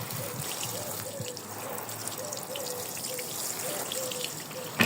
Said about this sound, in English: all you can see right now is the hose pipe